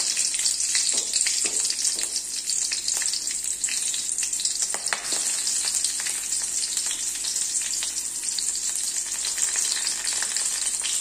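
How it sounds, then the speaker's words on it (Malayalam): Chopped green chilies sizzle and fry in hot coconut oil for garlic rasam, a steady bright crackle throughout with occasional stirring scrapes and no talking. "ഇനി ഈ വെളിച്ചെണ്ണയിലേക്ക് നമ്മൾ ഇട്ട് കൊടുക്കുന്നത് 2 പച്ചമുളക് ചെറുതായി കട്ട് ചെയ്തതാണ്"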